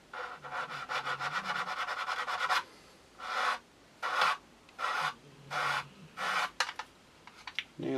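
Polishing sticks rub out scratches on the nose of an Academy 1/72 F/A-22A Raptor plastic model kit: a fast run of close, rapid rasping strokes, then slower separate rubbing strokes with short gaps.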